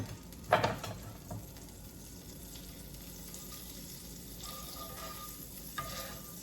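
Sandwich frying in butter in a pan, a quiet steady sizzle with a few soft scraping clinks of a utensil near the start, no talking.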